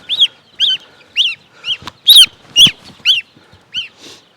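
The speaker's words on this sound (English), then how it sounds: "This is the newest baby goose." A newly hatched baby goose, only a few days old on a farm, peeps in about ten loud, clear, evenly spaced calls close to the microphone, with faint rustling between them.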